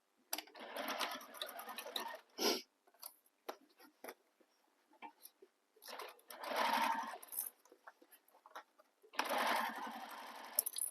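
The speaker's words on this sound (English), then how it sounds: "So now we're going to sew this using the seam allowance given in the pattern." A sewing machine stitches a bag seam in short, rapid bursts, three main runs of quick mechanical chatter separated by quiet pauses and small clicks, close and moderately loud.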